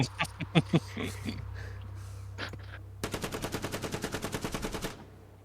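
Bursts of gunfire sound effect during a tabletop role-playing session: scattered single shots with voices early on, then a loud, rapid machine-gun-like volley of evenly spaced shots lasting about two seconds.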